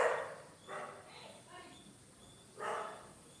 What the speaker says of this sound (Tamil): நம்ம லைவ் போட்டாலே இந்த நாய்க்குட்டிலாம் கத்த ஆரம்பிச்சிருது